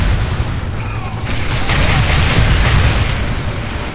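Barrage explosions in the video game Red Faction: Guerrilla form a loud, continuous rumble of overlapping booms and blasts with no break.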